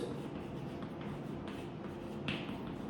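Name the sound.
writing summation notation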